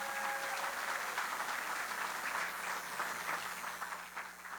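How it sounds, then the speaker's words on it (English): A crowd at a Hall of Fame awards luncheon applauds for an honoree, a full, steady wash of clapping that holds throughout before tapering slightly at the end. "One more round of applause for Pepe."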